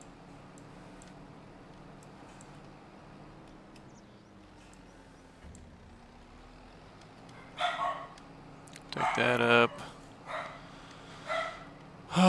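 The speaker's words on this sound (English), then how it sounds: "Must be time for the neighbors to take their dog for a walk." A dog named Tino barking at a window: after a quiet stretch with a brief spoken remark, several loud, close barks arrive in uneven bursts.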